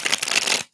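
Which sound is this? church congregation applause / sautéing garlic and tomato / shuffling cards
shuffling cards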